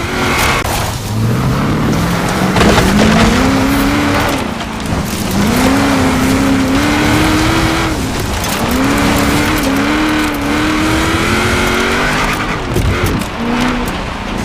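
A car engine in Forza Horizon 4 climbs and falls through repeated gear changes, loud and steady for the whole stretch with faint tire noise, no talking over it.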